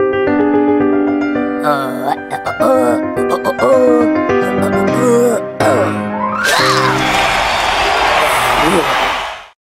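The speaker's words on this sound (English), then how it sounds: "The crowd cheered at the end of Francis's piano concert." Crowd cheering and applause erupts at the end of a piano concert, a loud broad wash of clapping and cheers following several seconds of piano and music.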